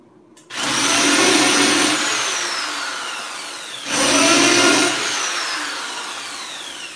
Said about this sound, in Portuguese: pré-furo com uma broca de 3 milímetros